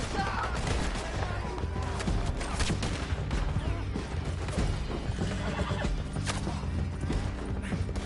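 Horses neigh and whinny amid galloping hooves and heavy gunfire in a Red Dead Redemption II shootout, with dense, continuous, loud action, crashes and shots layered throughout.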